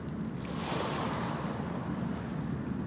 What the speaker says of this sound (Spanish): creó una gran playa llena de arena en la que el mar reventaba sus olas y adornaba con espuma